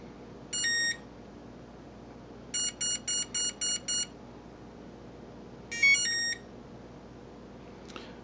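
A YGE low-voltage electronic speed controller on a Spartan Vortex RC helicopter beeps during throttle calibration: a single tone, then a quick run of six short beeps, then a final rising tone pair, clear and close.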